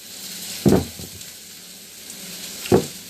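Tomatoes drop into a hot frying pan with spices, onion and garlic, giving two short bursts of sizzling a couple of seconds apart over a faint steady hiss.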